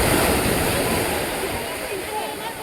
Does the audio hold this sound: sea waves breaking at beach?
yes